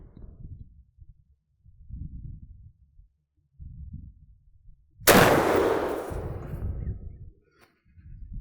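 Military Armament Corp 1014 12-gauge shotgun fired into ballistic gel: a single sharp, very loud blast that rings out and decays over about two seconds, set among quieter low thumps and handling noise.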